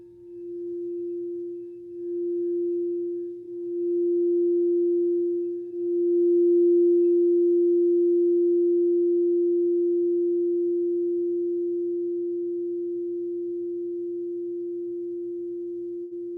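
A pure, sustained singing bowl tone rings steadily, swelling slightly at first and then holding and slowly fading over a long stretch.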